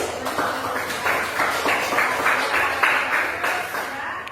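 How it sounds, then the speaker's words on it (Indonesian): A classroom group applauds together in rhythmic bursts, several distinct claps landing in a regular beat at close range, fairly loud, with faint voices underneath. "Untuk itu tepuk tangan dulu semua"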